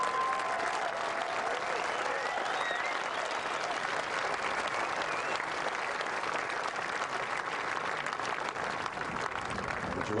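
A golf gallery gathered around the final hole at the 2015 Australian Open gives a player a sustained, dense round of applause from a large crowd, heard steadily throughout without pause.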